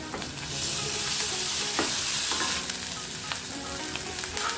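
Ginger garlic paste frying with onions in a pan for a potato sandwich filling, a loud and continuous close-up sizzle with light scraping of stirring, no speech.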